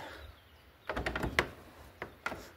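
Someone tries a second door of an abandoned building during urban exploration, producing a few rattling thuds and clunks in two short bursts amid a quiet, empty space.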